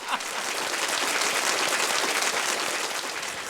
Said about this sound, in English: Okay, no more applause.